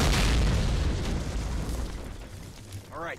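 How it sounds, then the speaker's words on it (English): A mortar barrage in Call of Duty lands as a loud, deep explosion that rumbles and slowly decays. A voice is briefly heard near the end. "All right, so we're getting a mortar barrage."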